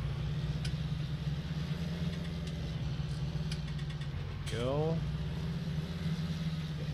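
A John Deere 8330 tractor engine in Farming Simulator 19 drones at a steady low idle-like hum throughout, with a brief voice heard over it.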